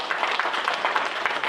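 Audience applause at a veterans town hall, a steady wash of many hands clapping at moderate level with no talk over it, filling the whole moment without a break.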